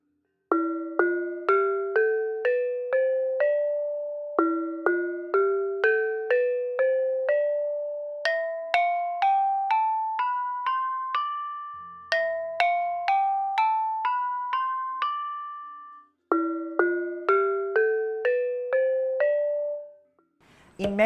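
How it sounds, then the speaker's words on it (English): An Indonesian gamelan plays Pelog seven-tone scale runs with semitones, bright metallic bronze keys struck one after another in rising and falling sequences that repeat several times, clear and close, with no voices. "Pelog is a 7-tone scale with semitones,"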